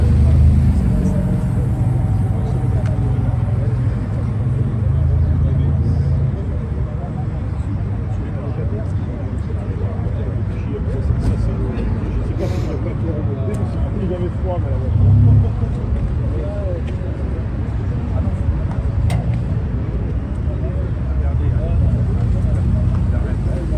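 Cars passing by on a road, a steady loud rumble of traffic with vehicles sweeping past close by and speech over it.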